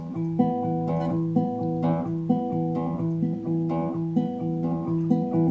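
A steady instrumental passage of layered, sustained tones shifts through a simple repeating pattern, with soft attacks and no voices.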